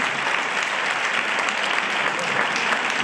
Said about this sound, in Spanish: Por favor, otro fuerte aplauso.